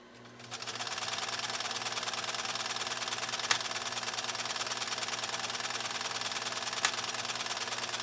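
A PFAFF 332 sewing machine stitching a complex decorative pattern, running at a fast steady mechanical clatter after a quick start, with two sharp clicks partway through, loud and close with no talking.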